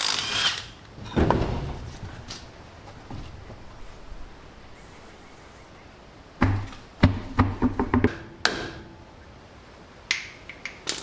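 An impact wrench works the left-hand lug nuts on a 1959 Plymouth, an old Mopar, firing in short sharp bursts and clicks, spaced out over the clip with quiet stretches between.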